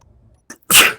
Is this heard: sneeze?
yes